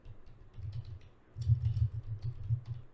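Code typed on a computer keyboard, soft muffled key taps in uneven bursts with a low thumpy body, growing denser and a bit louder midway, with no talking.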